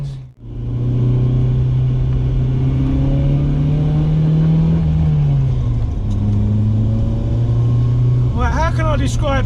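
BMW E30 M3 engine revving under load, a loud steady drone that climbs in pitch, eases off, then rises again with sharp harmonic sweeps near the end.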